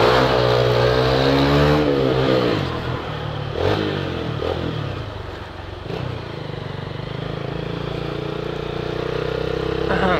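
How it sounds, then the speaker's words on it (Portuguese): A motorcycle pulling away hard from a start on a town street, engine revving up loudly then easing into a steady drone, close to the rider, with a brief voice over it. "Arrancada nervosa."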